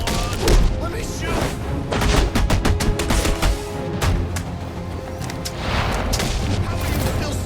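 Rapid gunfire and booming shots in the Batman: Arkham Origins video game, dense bursts of loud cracks and thuds throughout, with voices talking over the shooting.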